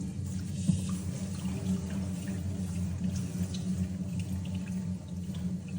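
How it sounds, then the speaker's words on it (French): Water poured steadily into a gold panning basin while sifting bag sediment for gold, a continuous close splashing and trickling flow with no talk. "J'en mets un peu d'eau quand même ici."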